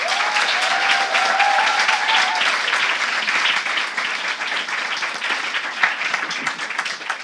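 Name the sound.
audience applause for keynote speaker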